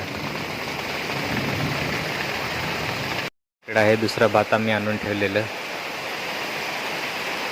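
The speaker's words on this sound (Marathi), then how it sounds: "आता बघा असा पाऊस पडत आहे" Heavy rain falls on a farm's rice fields and damaged harvested rice, a steady, dense hiss throughout that cuts out briefly while someone speaks for a couple of seconds before the downpour resumes.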